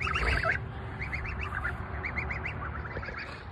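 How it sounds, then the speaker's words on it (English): Young goslings on a homestead give repeated thin, high peeping calls in small rapid clusters, close and steady, over a faint low background rumble. "Morning, goslings."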